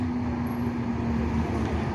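A Hino RM280 bus engine idles with a steady low rumble and a faint constant hum, close by.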